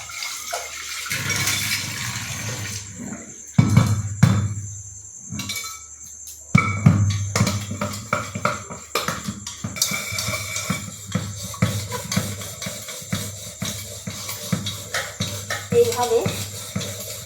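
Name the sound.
scrubbing a dirty pressure cooker clean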